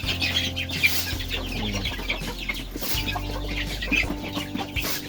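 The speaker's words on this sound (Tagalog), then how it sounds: "Ito naman yung sito natin, no? Dito kayo sinasali sa loob yung mga sisiw." Chicks and hens cluck and peep inside a backyard coop on a Philippine farm, a steady busy chatter of fowl close by with occasional louder calls, no voices over it.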